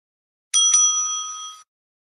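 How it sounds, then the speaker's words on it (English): A timekeeper's bell at a school debate is struck twice in quick succession, giving a bright, clear metallic ring that sustains for about a second before cutting off, alone in silence. "The timekeeper will ring the bell once"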